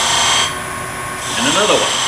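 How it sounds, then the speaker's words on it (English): A skew chisel makes a V-cut in wood, producing a close, rough scraping cut that softens briefly and then swells again. "move it and make another V-cut, engaging there first, about a 32nd of an inch over."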